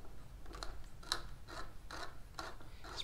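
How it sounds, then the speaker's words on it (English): A J Concepts body reamer cuts through an RC buggy body shell, giving a series of short, quiet scraping rasps in an irregular rhythm, close by with no talk. "Just a J Concepts body reamer."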